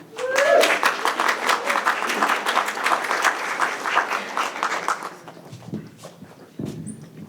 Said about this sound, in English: please welcome, with a very warm applause, Lisa Helfman from HEB